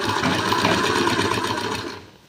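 A sewing machine stitches piping onto a blouse in one quick continuous run, a rapid rhythmic whirr close by that slows and fades at the end, with no voices.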